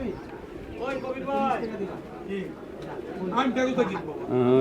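Many pigeons at a crowded pigeon market in Sarulia, Bangladesh coo and flutter close by, their calls mixed under near, busy talk from people around the stalls.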